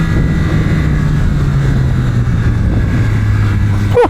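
A 2025 Yamaha R9 sport motorcycle ridden on a race track, its engine droning steadily with a slowly falling pitch against heavy wind rush, then a quick rising whine right at the end, no speech.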